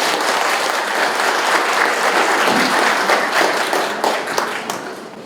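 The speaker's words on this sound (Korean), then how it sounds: "큰 박수로 자리에 모시겠습니다." At a Korean security lecture event, an audience gives loud, sustained applause to welcome a speaker to the stage, with dense clapping from many hands that tapers slightly toward the end.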